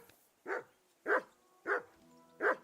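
Four evenly spaced, clear barks from a dog in the video game Kingdom Come: Deliverance II, close and fairly loud, with a faint voice briefly murmuring underneath.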